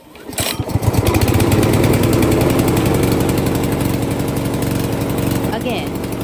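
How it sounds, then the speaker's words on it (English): A VIGORUN VTW550-90 wheeled radio-controlled grass cutter's engine catches on a hand pull start and runs loud and close, a steady rough mechanical drone with a dense rapid firing rhythm that holds for several seconds. "Then pull the pull cord."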